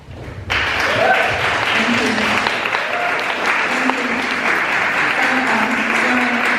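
Loud, sustained applause from a large audience at a school district candidates' forum fills the whole stretch after a brief quiet start, dense and steady with scattered claps standing out.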